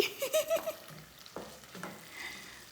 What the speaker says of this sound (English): we'll just leave that to fry for about 1 to 2 minutes so that the meat can take on the flavor of the palm oil